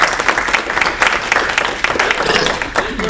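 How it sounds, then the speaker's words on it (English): A small Rotary Club meeting room fills with a brief burst of close, uneven hand clapping from a modest group, with some chatter mixed in. "let's give a big round of applause to Yvonne for that wonderful decision."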